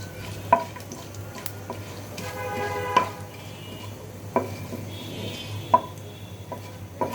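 Bay leaf, cumin, cinnamon, cardamom and dried chili frying in a pan for khichuri, a soft, faint sizzle under a steady hum, punctuated by a few sharp clinks of a spoon against the pan.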